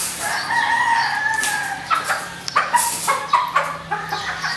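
Pullets and chickens crowing and clucking in a yard, several birds calling over one another at moderate distance, with no talk.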